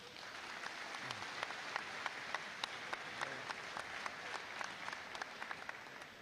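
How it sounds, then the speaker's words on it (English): Sustained applause from a college graduation audience, steady dense clapping with a few sharper individual claps standing out, no talk over it. "Let's give them a round of applause, please."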